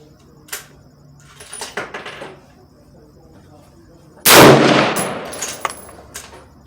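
A single loud 6.5 Creedmoor rifle shot cracks at a 100-yard range and rings out briefly, preceded by faint handling clicks and followed by quieter sounds.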